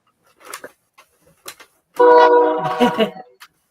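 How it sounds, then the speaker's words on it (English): A loud, harmonic train horn blast sounds for about a second, with brief clicks and faint voices around it. "Oh, there's the train, Lexi's trains."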